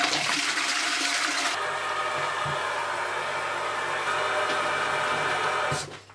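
A touch-free toilet flushes in a rush of water that starts loud and close, softens after a second or two, keeps running steadily, then cuts off near the end.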